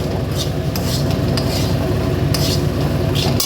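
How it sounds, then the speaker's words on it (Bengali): Semolina being fried and stirred in a pan: a constant low frying sizzle with repeated scraping and light clinks from a spoon against the pan, close and steady throughout. "সুজি হচ্ছে, সুজিটাকে ভাজা হচ্ছে ভালো করে"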